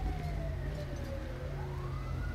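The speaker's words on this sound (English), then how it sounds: "Is that ambulance coming?" Ambulance siren in the video game GTA 5, a wailing tone sweeping down then up over a low engine rumble, moderately loud and continuous with no voices.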